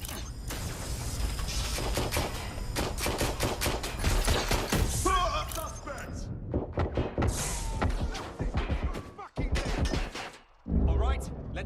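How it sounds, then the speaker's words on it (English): Gunfire in Watch Dogs: Legion, rapid bursts of shots and automatic fire cracking in quick succession with thuds and mechanical clatter, loud and close, with brief pauses, and a voice talking over part of it. "Shots fired!"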